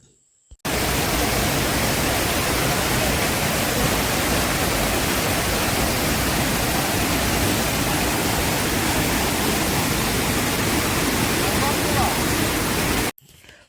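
The Urulikkund waterfall at Irikkur, which flows into the Irikkur river, roars as a dense, unbroken wash of falling water, loud and constant from start to finish.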